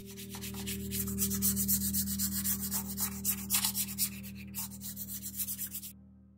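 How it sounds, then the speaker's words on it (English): Close, rhythmic rubbing strokes of light sanding scratch over a plastic model ship hull, over a steady low electrical hum, then stop abruptly. "I primed the surface after giving it a light sanding"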